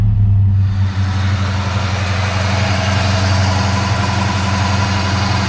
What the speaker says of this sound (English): Every time we change the TFI module, the car would basically start.